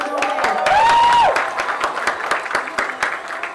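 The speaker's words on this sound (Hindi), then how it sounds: "Come on everyone, trouble your hands please. ताली बजाओ." A studio audience at an FM radio station claps continuously in a dense patter of hand claps, with a brief rising-and-falling whistle early on and some voices mixed in.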